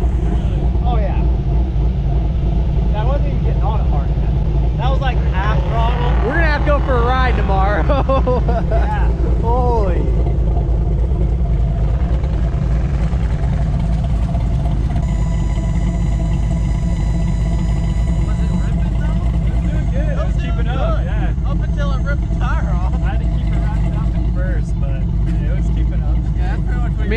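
An off-road vehicle engine runs at half throttle on the Glamis dunes, giving a steady, loud, continuous drone throughout, with people talking over it.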